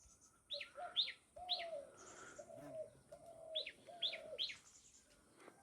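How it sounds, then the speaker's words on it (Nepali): Songbirds chirp in short bright bursts while doves coo softly and repeatedly underneath in a home kitchen garden, a lively outdoor mix with no talking. "हाम्रो करेसाबारीमा चाहिँ चराचुरुङ्गीहरू, ढुकुरहरू, फिस्टा चराहरू, अनि त्यसपछि जुरेली, सबै चराहरू आएर"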